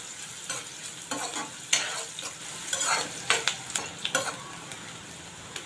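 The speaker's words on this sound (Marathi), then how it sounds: "हा कांदा चांगला परतून घेऊया" Chopped onion sautéing in a pan for a Konkani-style black chickpea masala, a steady close sizzle broken by irregular scraping stirs of the spoon, with no voices.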